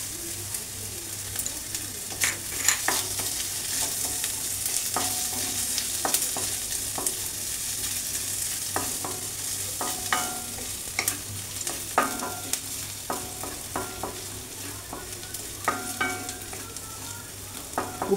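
Chopped ginger fries in a pan for an omelette cutlet, crackling and popping constantly over a steady sizzle, with frequent sharp spits close by and no voices.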